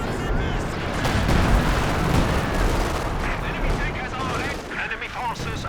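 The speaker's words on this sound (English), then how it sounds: "we've got these sector artillery dropping down now" Sector artillery shells fall and burst in the Company of Heroes 2 strategy game, a busy rumble of explosions and gunfire that runs through the whole stretch with a voice talking over it.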